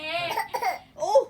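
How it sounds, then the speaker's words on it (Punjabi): A young child gives short, fake coughs in a few quick bursts, close and clear, with a playful, vocal quality and brief gaps between them. "ਉਹ ਲੈ ਖਾਂਸੀ ਆ ਰਹੀ"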